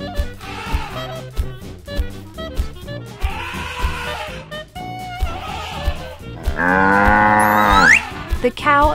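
A toy cow in a farm diorama moos in several drawn-out calls, loud and close, with sharp clicks and knocks of the playset between them.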